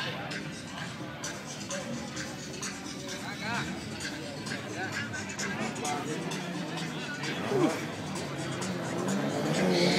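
A car engine at the Salinas Speedway, a continuous rough motor drone at moderate distance that grows slightly louder toward the end, mixed with steady crowd murmur and talking.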